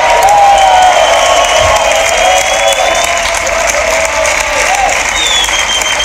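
Loud, dense applause and cheering from a crowd at a beatbox battle, sustained with whistles and whoops rising above the continuous clapping.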